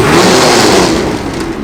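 A 2022 Ski-Doo Backcountry X snowmobile engine runs loud and close, holding a steady high rev that eases off slightly toward the end, with no voices over it.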